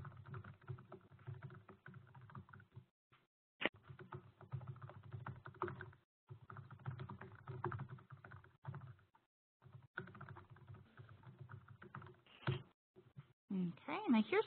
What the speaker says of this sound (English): I'm just typing one more thing in the chat real quick